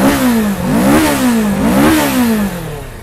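A two-cylinder sport motorcycle engine revs loudly and close up, its pitch climbing and falling in repeated throttle blips over about three seconds with no talk.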